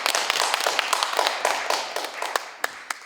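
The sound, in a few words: audience applause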